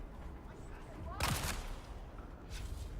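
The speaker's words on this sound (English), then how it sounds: "shotguns deal really well in this low level" A shotgun blast in the video game Dune Awakening, a single loud burst with a short rumbling tail, followed by a fainter second shot, under game ambience with talking.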